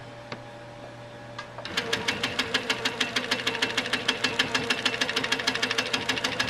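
A sewing machine stitches a quarter-inch seam: a quiet motor hum, then a fast, steady, even run of mechanical needle clicks starting around the two-second mark, close and fairly loud.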